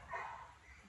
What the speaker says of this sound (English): apologize for my neighbor's dog.